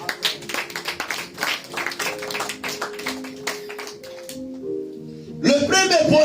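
Church congregation claps along to music, rhythmic taps over a sustained musical backdrop, with a burst of louder cheering and voices near the end.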